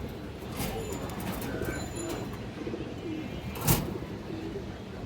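A pair of Kaldom pigeons coos softly and steadily, with faint chirps and a brief sharp click partway through, over a low murmur of background noise.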